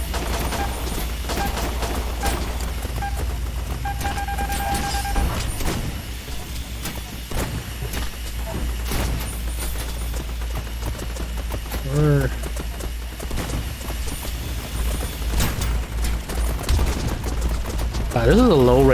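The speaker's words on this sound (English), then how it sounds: "this is a low rate of fire shotgun" Low rate of fire shotgun shooting at robots in the video game STHELL, heavy blasts spaced out unevenly among layered game effects, clattering and bursts of gunfire, with someone talking intermittently over the action.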